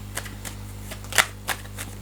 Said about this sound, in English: I cannot show you the cards that I shuffle on the table